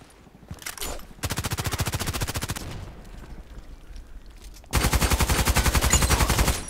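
Gunfire in a sniper video game: two long bursts of rapid, evenly spaced shots, loud and close, separated by a quieter stretch of background noise.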